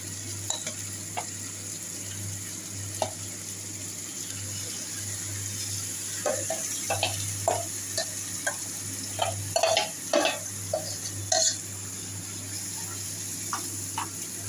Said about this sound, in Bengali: এবার এই ম্যারিনেট করা মাংসটা আমি দিয়ে দিচ্ছি